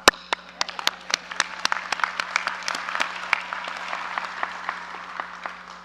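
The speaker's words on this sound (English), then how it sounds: "You can clap." Audience applause at a commencement convocation ceremony, with loud, distinct claps close by over a fuller crowd of clapping that gradually thins and softens.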